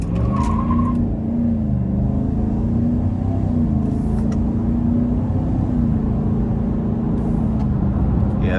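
A 2025 GMC Sierra 1500 SLT pickup with a 6.2-liter V8 accelerates hard, its engine note a loud, sustained low drone that climbs gradually in pitch, with a brief higher squeal near the start and faint clicks later.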